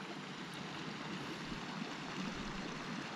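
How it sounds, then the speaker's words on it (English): A mountain creek near Mammoth Lakes rushes steadily, a close, continuous watery hiss with no talking over it. "Okay, so we've come to the next creek."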